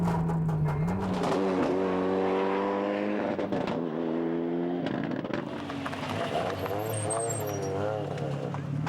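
A Renault Mégane RS N4 rally car engine, still in development, revs up and down in clear rising and falling sweeps with a brief drop in the middle, fairly close, with a voice faintly present underneath.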